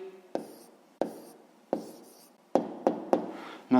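Pen strokes on paper while a math answer is written down, a series of about six short, close scratchy taps spaced irregularly with quiet between them.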